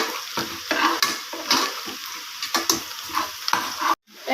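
Rhythmic spatula scrapes over a low sizzle as onions are sautéed with cinnamon, cloves, cardamom and garam masala for vegetable biryani; the sound cuts out briefly near the end.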